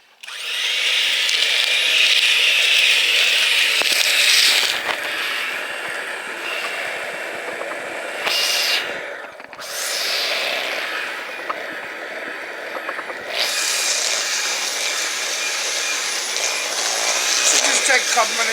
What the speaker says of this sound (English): We're going to beat this until everything's nice and incorporated and it comes out pretty creamy.